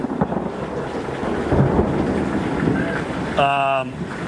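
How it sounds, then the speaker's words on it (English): A deep, rolling thunder rumble after a lightning bolt builds and lingers through a rainy storm, with a voice speaking over it and a brief tonal beep near the end. "we just had a big bolt and a big obviously clap of thunder here, Alex"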